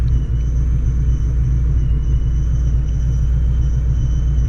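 Supercharged 2004 Mustang GT with 3.55 gears rumbling steadily while driving, a loud continuous low engine drone with no talk.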